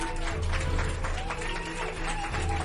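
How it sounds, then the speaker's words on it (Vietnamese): A crowd claps briefly after a Free Fire esports 4v4 match, a scattered round of applause blended with some voices and noise. "Và một tràng pháo tay cho hai đội tuyển nào."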